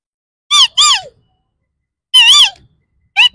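A voice imitates a parrot squawking, giving several loud, harsh, close bursts: two in quick succession, then a longer one after a pause, then a brief final squawk.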